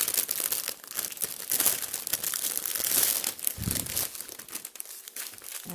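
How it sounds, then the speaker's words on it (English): Plastic packaging crinkles and crackles continuously as craft supplies are pulled out during a diamond art kit unboxing, a close, busy rustle with a brief crunchy burst partway through and no talking. "You like the sound of the crinkle."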